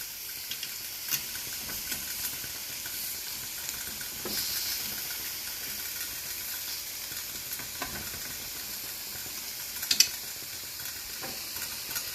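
Teriyaki chicken sizzles on a grill with a steady broad hiss, a few faint clicks and one brief louder crackle near the end, close and continuous with no speech.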